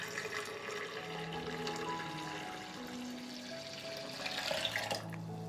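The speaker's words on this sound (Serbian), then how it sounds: "Sipat ću u blender litar vode." A liter of water is poured into a blender, a continuous close splashing and gurgling stream that stays steady for several seconds.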